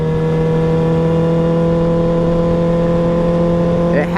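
Kawasaki inline four-cylinder motorcycle engine, a high-revving screamer, holding a loud steady high-pitched whine, then rising in pitch sharply at the very end.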